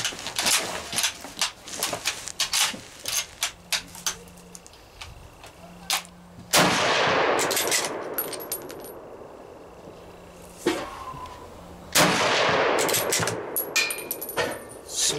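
A Lee-Enfield No.1 Mk III SMLE Ishapore .303 bolt-action rifle fires two loud, sharp shots a few seconds apart, surrounded by metallic clicks and clatter of bolt handling nearby.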